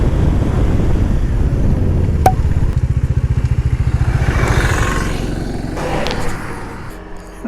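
Motorcycle on a solo road ride through the Yellapur forest toward Gokarna, its engine a steady loud drone with a rapid pulsing throb midway, under wind buffeting the microphone and no talk.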